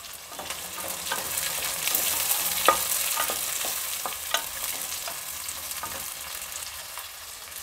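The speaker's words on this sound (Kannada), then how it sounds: "ಬಟಾಣಿ ಹಾಕ್ತಾಯಿದ್ದೀನಿ, ಹಸಿ ಬಟಾಣಿ." Fresh green peas sizzle in a pan for pea pulao, a soft bright frying hiss dotted with sharp clicks and scrapes as they are stirred.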